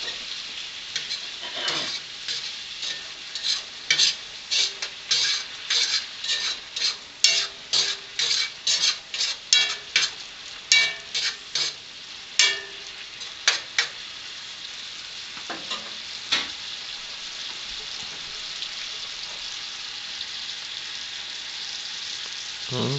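Hedgehog mushrooms sizzle in a frying pan, with a steady close crackle and a run of sharp, rhythmic scraping and clacking from stirring partway through. No one talks.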